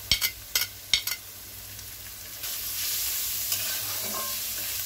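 Chopped onions (kanda) fry in a pan under a layer of capsicum, with a few sharp spoon scrapes early on, then a steady, moderately loud sizzle that swells midway.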